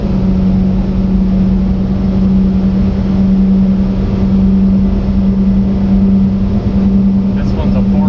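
A 4-speed Japanese mini truck drives along with a loud, steady engine drone and road rumble that stays constant throughout, heard from inside the cab.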